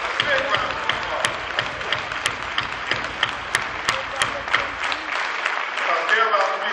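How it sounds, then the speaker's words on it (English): An auditorium crowd applauds for young people at a 2013 Omega Psi Phi chapter event, a dense, steady wash of many hands clapping close and loud, with sharp individual claps standing out, tapering off at the end. "give them a round of applause"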